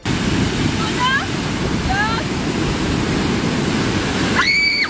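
Steady broadband wash of ocean surf fills the clip, with a few short bird-like chirps over it and a brighter whistling call near the end.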